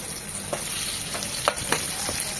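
Chopped garlic and a large chopped onion frying in oil for a bean and potato breakfast dish, a steady close sizzle with a few sharp stirring clicks, no voices.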